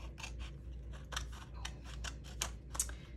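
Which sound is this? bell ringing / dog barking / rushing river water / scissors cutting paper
scissors cutting paper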